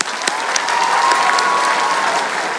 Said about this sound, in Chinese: 给大家一个掌声